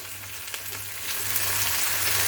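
Chopped tomato frying with onions in a pan: a steady, close hiss that rises and grows louder halfway through as fresh moisture hits the hot oil, with no talking.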